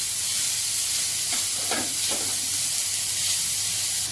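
Grated cabbage and carrot stir-frying over a high gas flame give a steady, loud sizzling hiss throughout, with a few brief stirring scrapes partway through and no talking.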